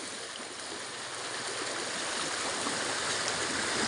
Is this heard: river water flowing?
yes